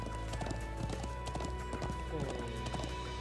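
Rhythmic hoofbeats of a young horse foal clip-clopping steadily in Trails of Cold Steel 2, close and continuous, with a faint whinny and a voice talking over it.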